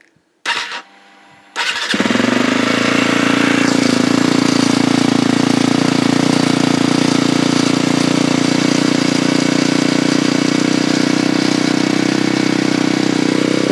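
A motorbike engine kicks over with a brief stutter, cuts out, then catches and settles into a loud, steady idle that runs unbroken for more than ten seconds, close by and with no voices.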